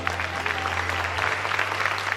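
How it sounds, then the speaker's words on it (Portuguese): Congregation applauding during a church service, steady dense clapping throughout with a low hum underneath. "Você pode dar um aplauso a ele."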